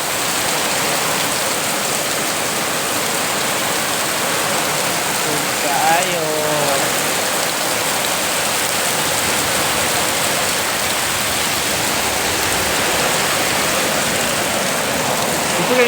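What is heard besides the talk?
heavy rain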